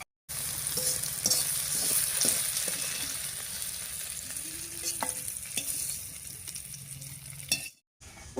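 Pieces of bitter gourd fry over high heat in oil with a steady, close sizzle. A spatula stirs them with repeated scrapes and clacks, and the sound cuts off briefly near the end.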